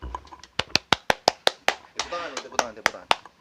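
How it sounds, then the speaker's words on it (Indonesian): A single person claps about a dozen sharp, evenly spaced hand claps close up to welcome a podcast guest, with talking overlapping midway. "Tepuk tangan."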